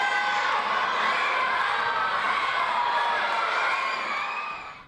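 Spectators packing an elementary school gym for a six-on-six game raise a loud, continuous roar of cheering and high children's shouts that holds steady before fading at the end.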